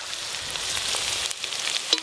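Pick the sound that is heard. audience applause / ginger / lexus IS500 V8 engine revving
ginger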